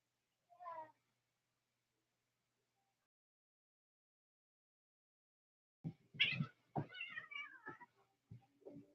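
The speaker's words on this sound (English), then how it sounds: "I got two cats behind me fighting." Two cats fighting behind a seated speaker let out a brief yowl, then after a pause a louder burst of snarling, wailing meows, heard fairly close in an otherwise quiet room.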